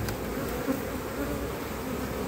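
Honey bees buzz steadily around the listener at a hive during a spring colony inspection, a dense, droning hum of many insects, close and continuous.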